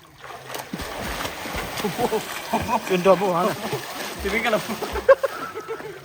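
Water splashes and sloshes unevenly as someone is taught to swim, with irregular nearby slaps and kicks while people talk and call out over the splashing.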